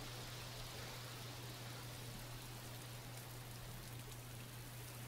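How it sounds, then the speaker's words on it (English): Rain begins falling among rustling trees at night, a soft, even hiss of drops spread across the whole stretch, faint and distant-sounding, with a low steady hum underneath and no voices. "it's starting to rain"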